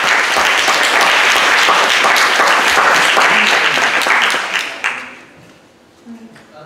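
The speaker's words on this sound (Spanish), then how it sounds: "Demos un fuerte aplauso" A conference audience applauds loudly and steadily after a panel speaker's request during an arts and cinema technology session, the clapping thinning out near the end as a few scattered claps and faint voices remain.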